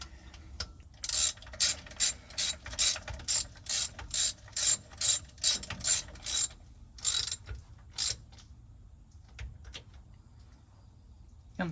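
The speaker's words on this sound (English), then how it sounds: "Don't tighten these down too much, just get them snug." Ratchet wrench snugging bolts down on a pontoon boat inboard conversion, a rapid series of sharp clicking bursts in regular strokes, close and loud, then a few scattered clicks.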